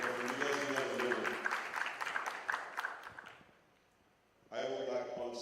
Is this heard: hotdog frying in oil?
no